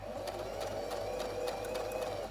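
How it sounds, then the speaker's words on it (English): A sewing machine stitches handmade fabric ruffles in one steady, continuous run, its motor hum and needle clatter holding an even pace from start to finish, close and fairly quiet. "start sewing"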